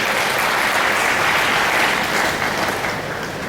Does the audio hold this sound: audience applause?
yes